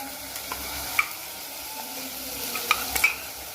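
Dried prawns are tossed into a pan of frying onions and tomatoes, bringing a soft, steady sizzle with a few light clinks of a utensil against the pan, heard close without any voices.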